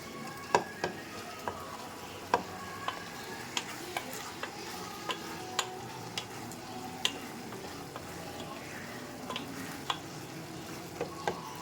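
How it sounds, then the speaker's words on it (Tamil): Tomatoes frying in a pan while being stirred steadily, a soft continuous sizzle punctuated by regular light clicks of a spoon against the pan, fairly quiet and close. "அதனால் நம்ம பக்கத்துலேயே நின்று இப்படியே கிண்டி கொடுத்துக்கிட்டே தான் இருக்கணும்."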